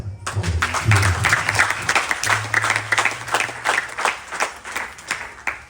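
Applause from an audience at a Ganesh Chaturthi festival gathering, a dense wash of clapping that stays fairly loud through the whole stretch, with a low steady hum and faint voices beneath it.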